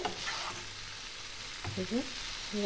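Potatoes frying in a pan are stirred, a soft low sizzle with a few scraping and clinking touches of the spatula, close but quiet, with no voices.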